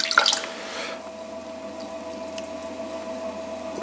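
Water drips and splashes onto wet clay during close-up throwing on a pottery wheel, a brief burst of wet spattering at the start followed by a steady, faint liquid hiss with a low hum beneath.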